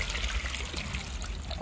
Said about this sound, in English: the water starts coming out and you can see it draining away